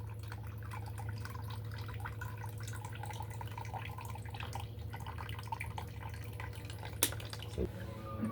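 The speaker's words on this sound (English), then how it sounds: "this is gonna be my last time watering it. I'm gonna go all the way around." Water trickles and drips steadily into the soil of a potted Hoya potsii plant, a soft continuous patter over a low background hum, ending with a couple of louder splashes.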